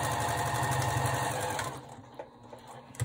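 Sewing machine stitching along the edge of a quilt block, a steady close mechanical whir with rapid needle rhythm that slows and stops partway through, leaving faint clicks.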